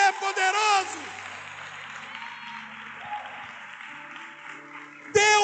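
Broad, sustained applause from a church audience at a Catholic gathering fills several seconds, steady and fairly loud, with a voice speaking over the start and again at the end.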